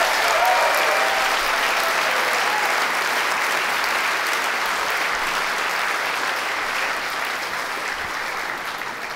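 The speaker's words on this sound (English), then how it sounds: "Give yourselves a round of applause" A large audience at the 2013 BAFTA Games Awards ceremony claps steadily for several seconds, a dense, even wash of applause that slowly tapers off.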